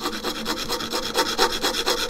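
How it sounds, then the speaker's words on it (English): An Iwasaki rasp shapes wood with rapid, evenly spaced scraping strokes, close and steady with no voices. "When there's a little bit more meat to take off, I'm taking off this Iwisaki rasp file thing."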